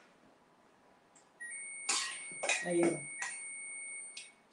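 An oven timer in a home kitchen gives a sustained electronic tone that rings steadily for a few seconds, while someone talks briefly over it.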